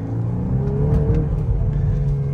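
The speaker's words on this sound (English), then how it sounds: "You can hear the sound of the engine there." Engine of a 2022 VW Golf R hot hatch revving in race mode, a steady loud mid-pitched drone with a rising and falling note, close and continuous with no talking.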